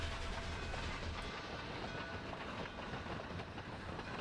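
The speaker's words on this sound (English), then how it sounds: "We're gonna ride the train." Durango and Silverton steam train rolling steadily on its rails, a loud continuous rumble and rattle of the cars heard from close by, with no talk.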